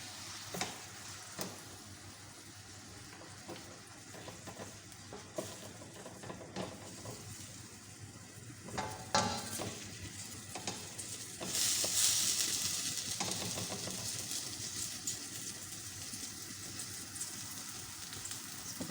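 Salt, cumin, chili and turmeric fry in hot oil for an anda aloo curry, giving a steady soft sizzle with occasional stirring scrapes, fairly quiet and continuous.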